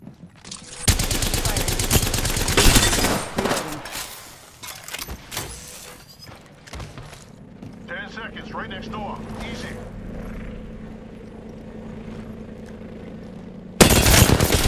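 Gunfire in a battle royale shooter, dense bursts of rapid shots early on, then sparser fire and game effects, ending with another loud burst; a voice talks over parts of it.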